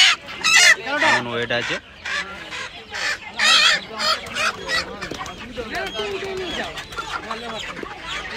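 Chickens and egg-laying desi hens cluck and squawk in quick bursts at a busy poultry and pet market in Uluberia, with people talking close by throughout.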